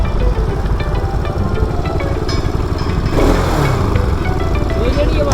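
A Bajaj Pulsar RS200 motorcycle engine runs steadily up close, loud and continuous, with a faint repetitive ticking fault under the engine drone.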